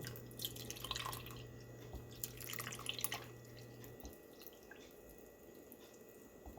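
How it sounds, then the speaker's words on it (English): Milk pours into a pot of clam chowder, a quiet, steady liquid trickle with light splashing for about four seconds before stopping, leaving faint background noise. "I'm going to put the milk in first."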